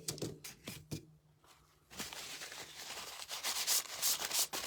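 The worn edges of a gingerbread boot and mitten craft piece are sanded by hand, with short scratchy rubbing strokes at first, a brief pause, then a longer, denser stretch of close abrasive scraping, with no talking.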